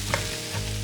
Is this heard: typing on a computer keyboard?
no